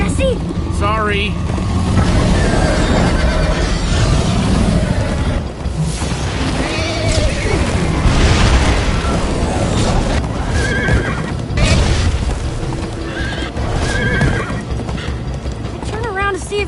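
A horse whinnies and hooves clatter in a steady gallop in Minecraft: Story Mode, with voices talking over the busy, loud scene.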